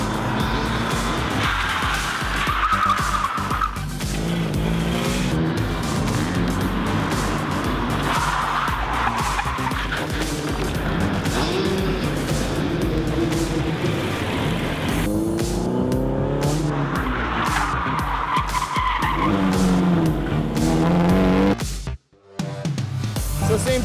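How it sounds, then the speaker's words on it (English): A car drifts around cone-marked corners at a drift school, engine revving hard as the tires squeal and skid through repeated long slides. It is loud and close, with a brief dropout near the end. "They'll be able to slide around the corner and be able to transition between drifts."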